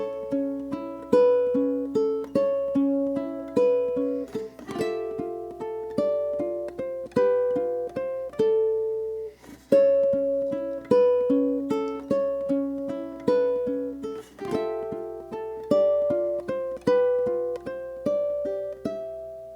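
Plucked ukulele plays a bright, repeating melody alone, with steady rhythmic phrasing and short pauses between sections.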